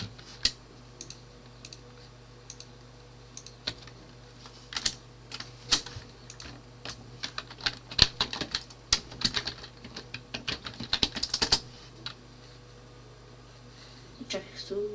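Computer keyboard typing, a quick run of crisp key clicks in bursts near the microphone while someone enters a game name into a search box in Steam, with a steady low hum beneath.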